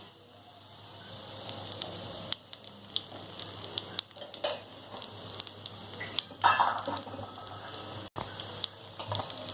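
Four red chillies frying with peanuts in hot oil, a steady soft sizzle with occasional stirring clinks and scrapes of a spoon against the pan, no one speaking.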